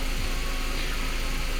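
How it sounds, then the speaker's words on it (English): A 2001 Volkswagen Beetle engine idles steadily, a constant low rumble with faint ticking pulses, held at an even level throughout with no talking. "And here you'll see your engine idling at 8:30."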